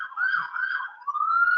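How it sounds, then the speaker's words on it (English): A police siren wails outside, a loud wavering tone rising and falling over two sweeps with a brief dip in the middle, heard alone without other sound. "I'm gonna edit out that siren"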